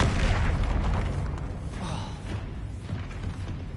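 Spells from Hogwarts Legacy, such as disarming, pushing and exploding charms, fire in dense succession, giving continuous booming blasts and whooshing bursts with rumbling low impacts that fade slightly toward the end.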